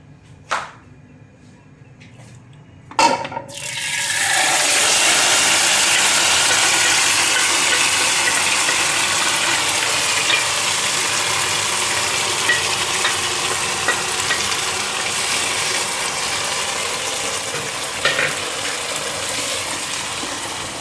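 Chicken curry ingredients tip into hot oil with a sharp clatter, then a loud, steady hiss of frying that carries on for a long stretch, easing slightly over time.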